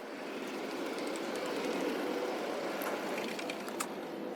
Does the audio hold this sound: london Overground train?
yes